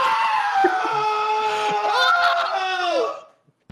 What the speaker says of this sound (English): Geordi screams and screams